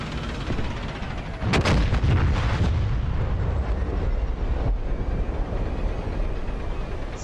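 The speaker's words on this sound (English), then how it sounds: "I saw a gun fire then." Gunfire in the DCS flight simulator game: a dense, loud rumbling burst of firing over a constant roaring engine drone, with the shots clustering for a second or two before the steady noise carries on.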